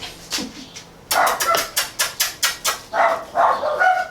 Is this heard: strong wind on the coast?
no